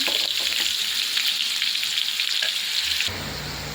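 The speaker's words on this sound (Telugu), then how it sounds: "ఇప్పుడు మళ్ళీ ఇంకో 2 స్పూన్స్ ఆయిల్ వేసి ఆనియన్ పేస్ట్ అయితే వేసుకున్నాను నేను" Onion paste fries in oil for a mutton keema curry, a loud close continuous sizzle that drops to a softer crackle near the end.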